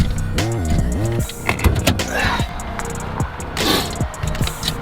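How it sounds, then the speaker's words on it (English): Hood of a Dodge Challenger being opened: a brief mechanical whirring tone followed by several clunks and latch thuds, with creaking metal and rustling close by, and no speech. "I'm just gonna pop this hood"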